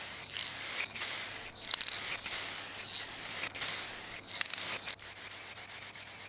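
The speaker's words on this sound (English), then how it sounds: "I applied some spray varnish" Spray varnish from an aerosol can goes onto a wooden mid-century style step stool in a string of short hissing bursts. Each burst is separated by a brief pause, and the can stays close and moderately loud throughout.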